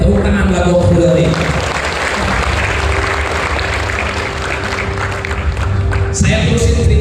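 An audience applauds at a large seminar in Kota Tangerang, a dense, steady wash of clapping lasting several seconds with a voice speaking faintly over it.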